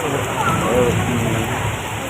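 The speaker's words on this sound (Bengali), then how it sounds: "খুব সুন্দর বৃষ্টি হতেছে" Heavy rain pours down steadily, heard from a fifth-floor corridor of an agricultural hospital building as a dense, even hiss with no breaks.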